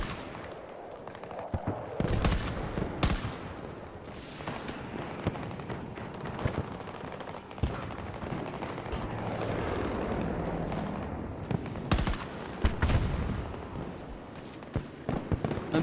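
Gunfire in the video game Battlefield 2042, dense bursts of shots and explosions running continuously with loud sharp cracks throughout.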